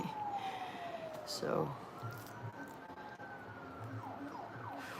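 A wailing siren in Los Angeles rises and falls steadily in the background, moderately distant, with a brief spoken word partway through.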